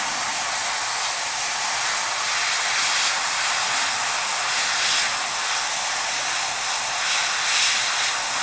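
Airbrush spraying Tamiya lacquer paint onto the panels of a model Sturmgeschütz III Ausf B tank, a steady broad hiss that runs unbroken from start to finish, close and even, with slight swells and no talk.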